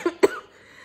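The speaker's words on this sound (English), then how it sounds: "I'm still coughing a little bit" A person with a lingering cold coughs twice in quick succession, close and brief, and quiet follows.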